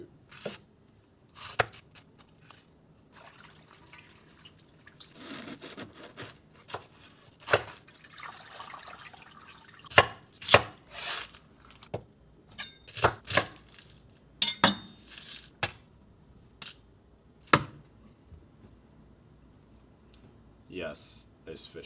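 A knife chops through a leek on a cutting board, trimming off the root with a series of sharp, separate knocks. Faint dripping and quiet kitchen handling sit between the cuts.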